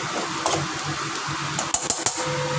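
Okra fry is stirred in a pan with salt and turmeric, giving light clinks and scrapes of utensil on metal, including a few sharp taps near the end over a steady background hum, close and without talking.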